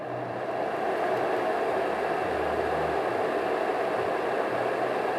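A fan-type white noise machine runs at full volume, giving a steady broadband rush, while low bass from music playing in the room thumps faintly underneath throughout.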